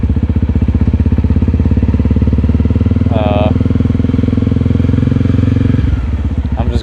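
A 250L motorcycle on an evening cruise, its engine running as a steady loud drone throughout, with a brief high clatter near the middle and a slight drop in the last second.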